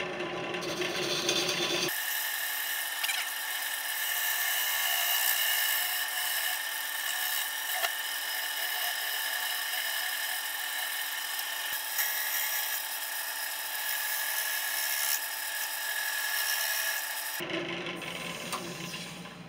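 A wood lathe spins at about 600 RPM while a freshly sharpened gouge shapes a wooden vase, giving a steady, loud rasping scrape that runs without break for roughly fifteen seconds and then stops.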